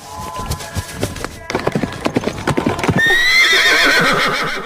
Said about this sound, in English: That's a stunning horse.